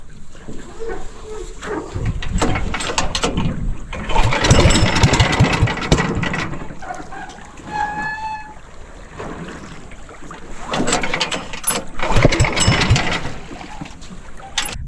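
A grass cutter engine runs in a rice field, a steady mid-pitched drone throughout with surges in loudness, while people talk over it now and then.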